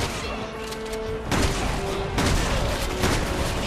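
Dense bursts of gunfire from Chris Redfield in Resident Evil 6, fired while crawling on his back, sound as a loud, sustained fusillade of overlapping shots with heavy thuds, the volume rising partway through and staying busy to the end.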